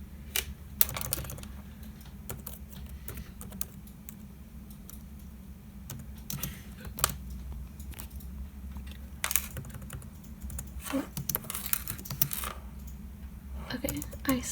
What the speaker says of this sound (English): I'm like bad at typing while filming at the same time